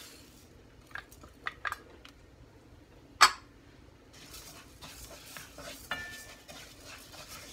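Garlic and rice go into a pan for garlic white rice, with light scrapes, a sharp metallic clink of a utensil on the pan, and then a soft sizzling stir that continues.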